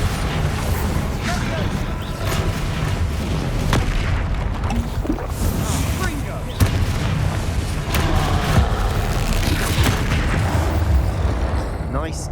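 Spell explosions boom from a Hogwarts Legacy battle against an angry troll, dense and continuous over a rumbling low-end with scattered sharper blasts, mixed with game music and effects throughout.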